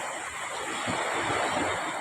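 Sea waves washing onto a murky brown beach where a river flows into the sea, a steady, close hiss of surf with wind rumbling faintly underneath.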